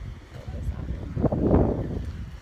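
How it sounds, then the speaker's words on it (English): Wind gusts outdoors, rumbling against the microphone and rising to a stronger buffeting push midway. "It's so windy."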